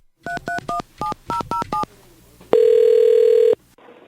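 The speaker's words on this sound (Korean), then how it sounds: "최 씨 핸드폰으로 제가 전화를 걸어봤습니다" A telephone call is dialed on a mobile phone: eight quick touch-tone beeps in an uneven rhythm, then a pause and a single long steady ringback tone, loud and close.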